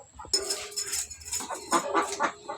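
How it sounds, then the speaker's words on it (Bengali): Domestic ducks give short, harsh quacking calls in quick bursts, fairly close with quiet pauses between. "আমাদের 2টা সোনার হাঁস আমাদের লগে লগে থাকে।"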